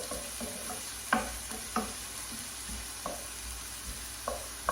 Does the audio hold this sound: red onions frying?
yes